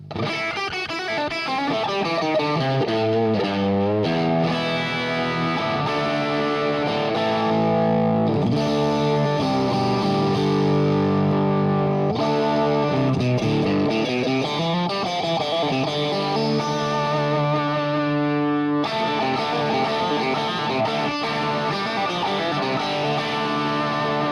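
An electric guitar through a Vemuram Jan Ray overdrive pedal into a Vox AC30 plays chords and riffs, warm and gritty, loud and steady throughout with no voices.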